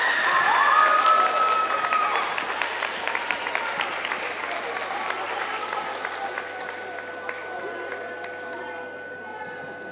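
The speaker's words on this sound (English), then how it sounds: "Give a round of applause to our social studies civics winners" An audience at a seventh grade school awards ceremony applauds the civics winners, a broad crowd clapping that starts fairly loud and slowly fades, with a brief tonal sound near the start.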